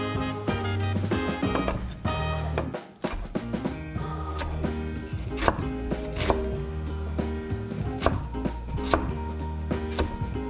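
A knife chops an onion on a board in quick, sharp, irregular strikes, close and crisp, with a short pause partway through before the rapid chopping resumes.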